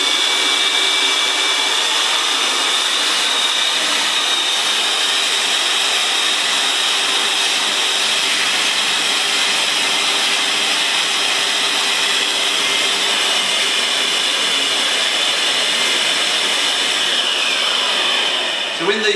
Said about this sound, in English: We turn the vacuum cleaner on.